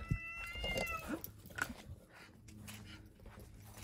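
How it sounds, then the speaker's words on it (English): Stray cats yowl and screech at each other in a short, scrappy fight, faint and somewhat distant, with scuffling noises and background hum. "There's cats down here killing each other."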